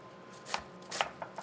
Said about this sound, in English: So, onion, chop it up. Nice fine dice.